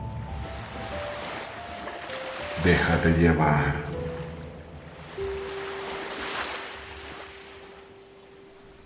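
Ocean surf washes in soft swells under a calm spoken voice and sustained gentle tones, rising and fading like breaking waves at a quiet sea.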